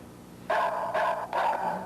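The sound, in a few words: electronic barking dog burglar alarm gadget barking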